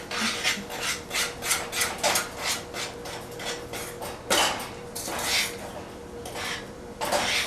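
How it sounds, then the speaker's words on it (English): Rhythmic scraping strokes of a utensil stirring thick batter in a bowl, close and steady with brief pauses between bursts. "So we're going to keep stirring."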